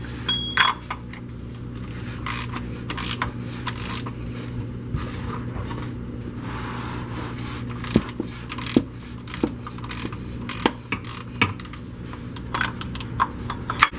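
Ratchet wrench clicking as it loosens the oil drain plug on a 2009 Scion XD, a rapid series of close mechanical ticks and clacks over a steady background hum, with no talking.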